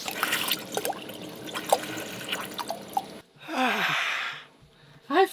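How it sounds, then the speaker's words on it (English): Water draining out of a van's water system as the pump sucks in air, giving irregular drips, gurgles and trickles, then a sudden hissing, sputtering burst near the end, close by with no talk. "it just sucks in air and then all the water gets removed from the system"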